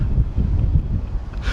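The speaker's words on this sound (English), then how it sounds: "It's like windy and cold." Cold wind blows outdoors, gusting against the microphone in loud, low rumbling bursts with no voices.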